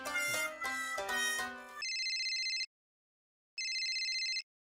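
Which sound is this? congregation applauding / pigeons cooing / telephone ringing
telephone ringing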